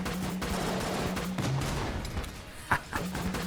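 Rapid bursts of gunfire and bullet sounds from a boss fight in the video game Enter the Gungeon, dense and continuous, with a sharper shot or impact near the end.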